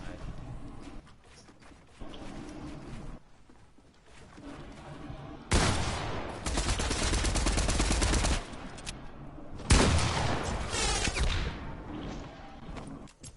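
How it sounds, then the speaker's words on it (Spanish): Video game gunfire bursts, rapid automatic shots in two loud stretches mid-clip, alongside casual talk and game sounds before and between them. "Yo disparo, pero no pega."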